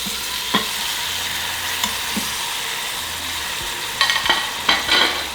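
Meat for birria verde browning in an Instant Pot, a continuous bright sizzle with a few scraping stirs and clanks of a utensil against the pot, growing busier toward the end, no talking.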